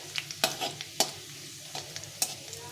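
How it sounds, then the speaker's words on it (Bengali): Whole spices and bay leaves sizzle in hot oil with a steady crackling hiss, punctuated by several sharp clinks and scrapes of a utensil stirring the pan. "ফোড়নটাকে একটু ভাজা ভাজা করে নিতে হবে"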